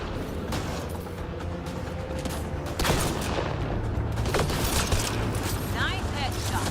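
Gunfire from a firefight at a poachers' camp in Mass Effect Andromeda, with repeated shots and impacts running through the clip and getting denser from the middle onward, while voices speak over the combat.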